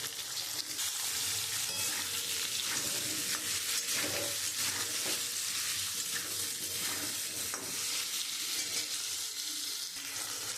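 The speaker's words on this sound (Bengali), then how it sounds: "আলুটা আমি একটু ভেজে নেব।" Potato pieces fry in hot oil with ginger, and the loud, dense sizzle holds steady and close throughout, with faint stirring beneath it and no voices.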